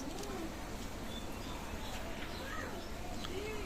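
Pakistani teddy pigeons of Omani bloodline coo softly in a series of gentle, rising calls, with faint chirps and low background murmur around them.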